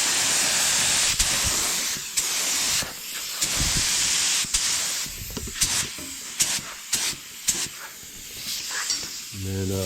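Paint spray gun laying down a basecoat edge for a marbleized candy paint job, a steady close airy hiss that cuts in and out in short bursts, with a brief spoken remark.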